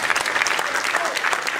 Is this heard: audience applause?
yes